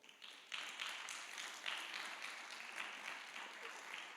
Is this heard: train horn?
no